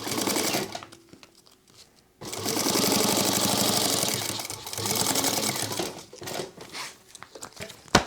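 A sewing machine runs bursts of top stitching 1/8 inch from the edge of a sling crossbody bag panel, its motor whirring loud and close with a pause and fabric handling between runs.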